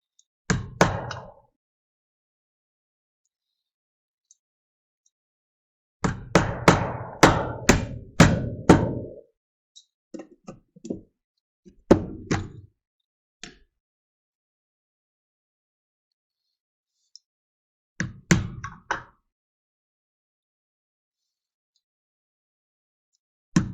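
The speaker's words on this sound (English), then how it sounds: "Guarantee I'm hitting another nail right now." Hammer blows drive nails into metal roof drip edge outdoors, sharp strikes coming in quick bursts of several hits separated by long quiet gaps.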